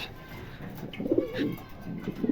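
Pigeons at a wholesale pigeon market give soft, low cooing calls in several short bursts over a steady background murmur, with no one speaking.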